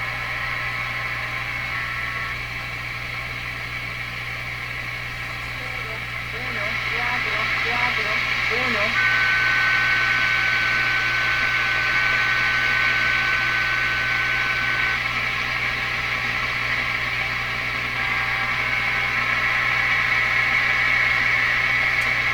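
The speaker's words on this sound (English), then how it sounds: "This is a numbers station." A shortwave numbers station signal received on an Electrohome Serenader 9A62-S radio: constant hissing static with steady droning tones and faint warbling bursts, unbroken for over twenty seconds.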